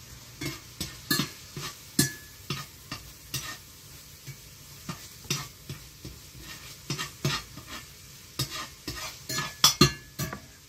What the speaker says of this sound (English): while that bacon is cooking, I'm gonna cut up my onion